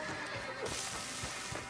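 A horse in the Red Dead Redemption 2 video game gives a short whinny over a steady game soundscape, fairly quiet and brief with faint hoof-like thuds underneath.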